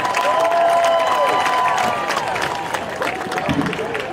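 A crowd at a high school varsity football game cheers and claps loudly and steadily, the applause slowly fading, while an announcer's voice carries over it.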